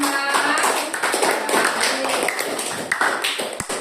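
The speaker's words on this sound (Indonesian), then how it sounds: "tepuk tangan untuk kelompok 5" A class applauds a student group at the end of their presentation in an Indonesian classroom, with dense, steady clapping from many hands that carries on for the whole stretch.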